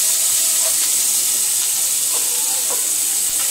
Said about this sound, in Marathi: आपण सर्वप्रथम पहिलं ऑइल टाकून घेऊया. आपण याच्यात आधी ऑनियन टाकूया.